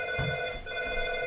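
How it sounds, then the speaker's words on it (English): A doorbell rings indoors with a sustained electronic tone, steady and moderately loud, heard alone for just over a second. "Oh, my doorbell's ringing."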